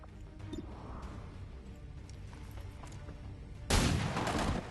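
A single gunshot executes a target in XCOM 2, a sudden loud crack and rumbling blast near the end after quieter game ambience.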